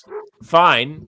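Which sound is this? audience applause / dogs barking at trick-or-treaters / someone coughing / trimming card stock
dogs barking at trick-or-treaters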